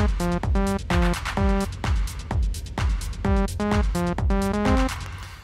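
An unprocessed techno synthesizer lead plays short, punchy stabbed notes in a syncopated rhythmic pattern, loud and dry, over a thumping low pulse with no talking.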